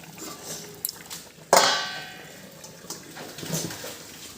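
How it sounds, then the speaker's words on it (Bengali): A lid set onto a cooking pot of Bhola fish curry with okra gives one sharp metallic clang, close and fairly loud, then a fading ring and quiet kitchen noise. "ঢাকা দেবো এবারে।"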